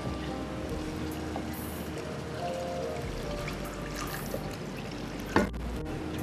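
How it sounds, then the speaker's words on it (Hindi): Two cups of water pour into a pan of fish curry, making a steady, soft, rushing stream that lasts several seconds. A clink is heard near the end. "दो कप पानी डाल दिया मैंने"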